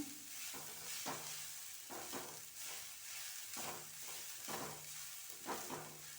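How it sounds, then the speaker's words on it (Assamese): Steady sizzling of grated coconut frying in a pan, with a spatula scraping and stirring in regular strokes about once a second, close up. "এনেকৈ ভাজি থাকিব লাগিব নাৰিকলখিনি।"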